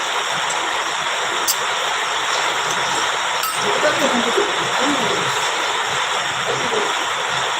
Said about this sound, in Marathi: मग काय आता जोरातच कसला पाऊस आहे